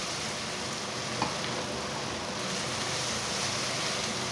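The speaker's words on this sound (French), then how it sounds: "On brasse les oignons." Onions sizzle steadily in a saucepan for French onion soup, a close, even crackling hiss with faint scraping as they are stirred.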